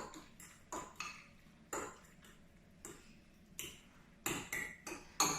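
Tuna croquette mixture stirred in a bowl, a quick series of light utensil taps and scrapes against the bowl, close and fairly quiet, no talking.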